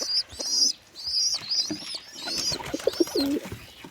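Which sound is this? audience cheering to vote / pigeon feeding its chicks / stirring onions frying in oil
pigeon feeding its chicks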